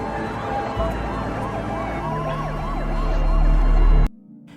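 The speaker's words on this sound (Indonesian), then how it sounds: "Beberapa saat kemudian terdengar sirine polisi dari kejauhan." A police siren wails in steady rising and falling sweeps over a low rumble, holding at moderate volume and swelling slightly before it cuts off abruptly near the end.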